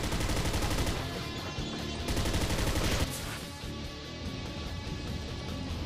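Rapid video-game gunfire from Basara 4 Sumeragi shoots at gold, a dense, continuous stream of loud shots with a brief lull before the firing resumes, layered over game music.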